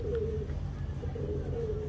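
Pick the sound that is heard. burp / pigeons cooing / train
pigeons cooing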